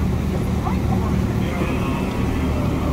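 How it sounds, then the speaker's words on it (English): A loud tour boat on the River Thames in London passes close by as a steady, heavy engine rumble that fills the whole stretch, with a voice talking faintly underneath. "that boat is very loud"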